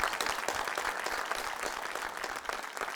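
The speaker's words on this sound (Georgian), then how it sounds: "აპლოდისმენტებს იმსახურებს ეს ყველაფერი" Sustained applause from a studio audience on a Georgian television talk show, steady dense clapping at even loudness throughout with no voices over it.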